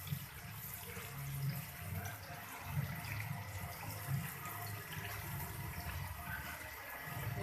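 Water pours steadily into a pot of beef nihari with spices in it, making a continuous, fairly faint splashing that runs for several seconds with no voices.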